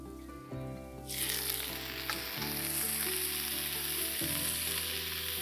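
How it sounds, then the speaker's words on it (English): Garlic cooking in oil for shrimp scampi hisses in a steady close sizzle, heard under sustained tonal music throughout. "Next, you want to add your garlic. Let that garlic cook for a moment."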